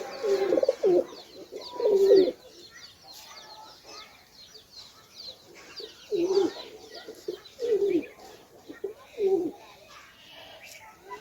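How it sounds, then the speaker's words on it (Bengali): Pigeons that have been caught coo in a series of low, rounded calls. They come in two clusters separated by a pause, fairly close and loud, with no talk over them. "এই দেখো বন্ধুরা, নোয়ার কবুতর"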